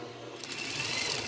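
Up close, a sewing machine runs in one continuous whirring burst as it stitches a seam on a fabric face mask with elastic, the motor hum steady and fairly loud.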